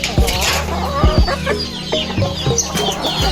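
A chicken clucks in short, repeated bursts, fairly close, over a steady low background hum.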